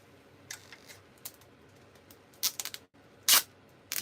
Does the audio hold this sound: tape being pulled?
yes